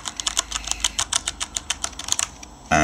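Mechanical keyboard keys fitted with O-ring dampeners are typed along the top row in quick, evenly spaced clacks, close and slightly muted, with no talking.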